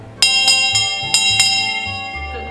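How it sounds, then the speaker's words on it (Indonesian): A handheld altar bell rung by an altar server at a Catholic parish, struck repeatedly in quick bursts with bright metallic strikes and long shimmering ringing tones, close and loud, no talking. "membunyikan lonceng ini secara terus-menerus sampai lagu kemuliaannya selesai"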